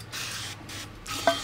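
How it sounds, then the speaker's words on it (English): Brake cleaner is sprayed into a KTM motorcycle shock in short hissing bursts, three close aerosol blasts separated by brief pauses and ending with a small clink. "we're going to take some brake clean. I'm gonna spray this thing out and get all the water out of it."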